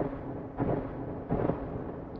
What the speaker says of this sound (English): Sounds like a thunder off in the distance.